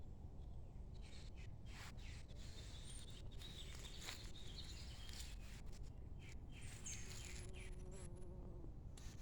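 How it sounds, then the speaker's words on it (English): A bee buzzes among strawberries, squash and sunflowers in a backyard garden, its faint droning hum drifting nearer and farther over quiet outdoor ambience with occasional soft bird chirps. "Little bee working back there."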